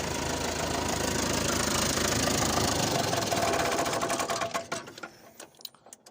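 A Fordson Major tractor engine idles with a loud, rapid knocking clatter, then winds down and fades to quiet as it is shut off.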